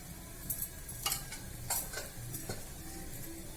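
Ghee sizzles on a hot dosa pan as a soft, steady crackle, with a few brief scraping clicks from stirring or spreading. It is close and fairly quiet, and no one speaks.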